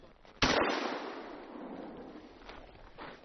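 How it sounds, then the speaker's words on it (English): A single sharp shotgun blast while shooting clay targets outdoors near Harbin in winter, a loud crack at the start followed by a long decaying echo and faint later pops. "I decided to shoot some clays"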